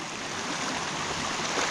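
A stream swollen after 32mm of heavy rain rushes in a steady, broadband wash of flowing water, loud and close with no voices.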